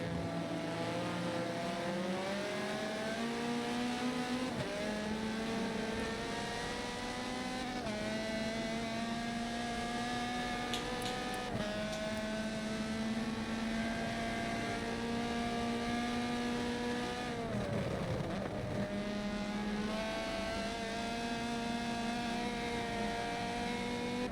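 GT race cars in a racing video game at Silverstone during an endurance race give a continuous, steady engine whine whose pitch drifts and shifts as the cars jostle to overtake, with no voices.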